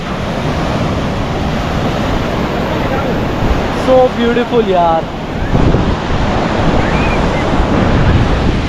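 Steady surf washes onto a beach at Visakhapatnam (Vizag), India, with wind buffeting the microphone throughout; someone speaks briefly over the continuous roar of the waves.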